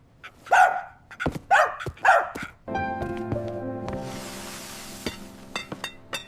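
A dog barks in a quick burst of several sharp, close yips and barks, then a rattling clatter and scattered lighter thumps follow, with no talking.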